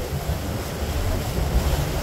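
Low rumbling wind buffets the microphone over the wash of sea waves out at sea off the Sundarbans, a continuous blustery roar.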